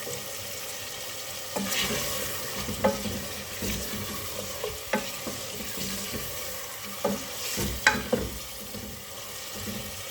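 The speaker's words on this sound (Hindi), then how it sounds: "अब हमने अच्छी तरह इसे ऑयल में फ्राई कर लेना है।" Chicken for qorma fries in oil, a soft, steady sizzle broken by repeated scraping stirs and clinks of a utensil against the pan, close and moderately quiet.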